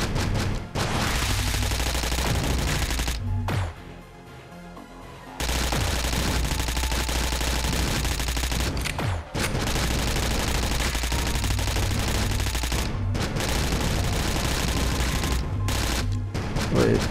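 Astroswarm video game gunfire: dense, loud rapid-fire shooting that runs almost continuously, broken by a few short pauses and a fuller lull just after the start.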